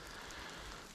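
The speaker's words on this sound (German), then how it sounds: "Es hat auch geregnet, angefangen zu regnen, tut es immer noch, wie man merkt." Rain falls steadily at a fenced former fuel depot of Sperenberg airfield, a soft continuous patter and hiss, faint and evenly spread with no talk.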